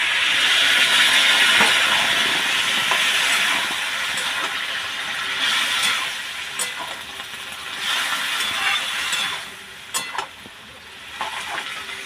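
Water splashed into a hot pan of already-fried, spiced vegetables for a pui mituli dish sets off a loud, steady hiss and sizzle that runs throughout, dipping briefly before flaring up again.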